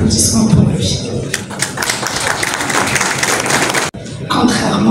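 An audience at a public debate on local development and the environment in Tizi Ouzou breaks into a burst of clapping in the middle, with a voice before and after.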